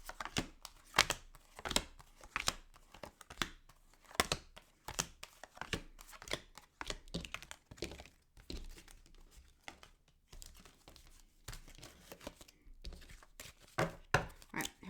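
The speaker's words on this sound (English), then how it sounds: "Let me get a shuffle." Tarot cards being shuffled by hand, giving quick papery riffles and slaps in irregular bursts that start and stop throughout, close and fairly crisp, with no talking.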